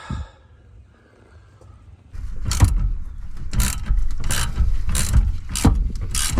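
Metal tool work on a 2011 GMC Yukon Denali Hybrid engine as a puller draws off the bottom crankshaft timing sprocket, a run of sharp clanks and ratcheting clicks in close succession after a quiet start.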